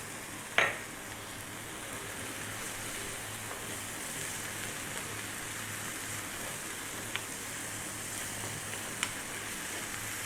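Oregano, sweet paprika, chili and cumin are stirred into beef frying in a pan for nachos, a steady soft sizzle with a single utensil clack near the start and a few faint taps.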